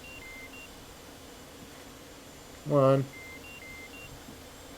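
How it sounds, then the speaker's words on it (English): Cockpit warning beeps in an F/A-18C jet in the DCS flight game, a short loud burst of rapid tones standing out briefly over steady cockpit hum while a person speaks nearby. "Why is that beeping on me?"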